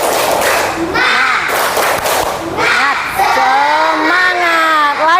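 A classroom of children does a rhythmic clapping chant led by a teacher, with sharp bursts of group claps and thuds alternating with loud sung and shouted voices, close and energetic throughout.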